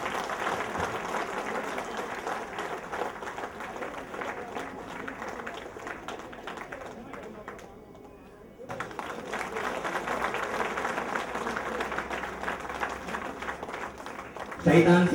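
Loud, sustained applause from a ceremony audience as a guest is welcomed, a thick wash of clapping that briefly thins midway before swelling again, with voices faintly mixed in.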